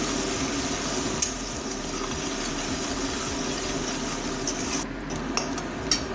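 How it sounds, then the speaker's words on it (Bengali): Soya chicken ingredients fry and get stirred in a pan with a little salt until reddened, giving a steady close sizzle and hiss with occasional scraping clinks of the spoon and no talking. "লাল লাল করে ভেজে নেব"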